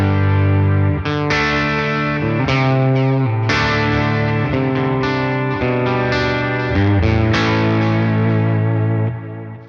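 Electric guitar played through a Tone King Imperial preamp pedal with light overdrive, a steady run of sustained chords and notes with a warm, slightly crunchy tone and ringing decay, played alone without talk.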